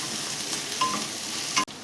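Ginger-garlic paste frying in a pan for chicken rolls, a steady close sizzle with a few soft stirring scrapes, moderately quiet throughout.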